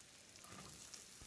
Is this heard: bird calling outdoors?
no